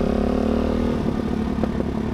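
A Suzuki DRZ motorcycle rides along with a steady, fairly loud engine drone and a faint mechanical clatter, heard up close with no speech.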